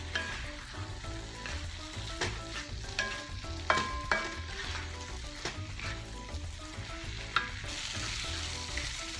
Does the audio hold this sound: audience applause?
no